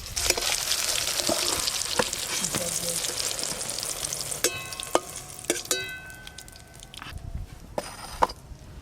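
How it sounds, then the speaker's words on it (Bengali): Potatoes frying lightly in oil in a pan, a steady close sizzle with occasional clinks and stirring scrapes of a utensil, no voices over it. "ঝোলের জন্য আলুগুলো হালকা করে ভেজে নেব"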